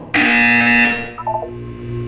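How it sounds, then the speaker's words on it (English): A single loud electronic buzz sounds for under a second, then fades into a faint hum with a brief flutter. "When you hear the buzzer, look down at the floor."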